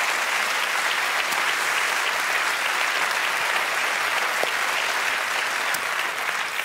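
A large crowd at the 3sat Festival in Mainz keeps up loud, frenetic applause for a comedian on stage, a thick, steady wall of clapping with a few sharper claps popping out near the front.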